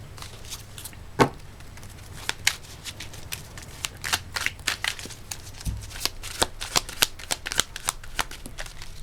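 Oracle cards shuffled by hand for a card reading, a close series of soft slaps and riffles in uneven rhythm, with no talk.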